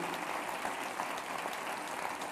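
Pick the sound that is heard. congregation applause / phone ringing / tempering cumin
congregation applause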